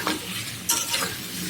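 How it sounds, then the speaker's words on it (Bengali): Duck meat frying dry in a pan as it is stirred and browned, giving a loud continuous sizzle broken by sharp scraping stirs, with no talk. "এখন আমি এটাকে একবারে ভাজা ভাজা করে কষিয়ে নেব, লাগা লাগা করে কষাতে থাকি"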